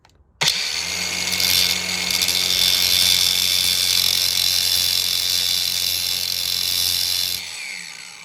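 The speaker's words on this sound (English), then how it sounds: "We'll put our angle grinder to the side." An angle grinder grinds an old Walden ratchet flat, starting abruptly with a loud, steady high-pitched whine and harsh grinding hiss that holds for about seven seconds before spinning down, close and alone.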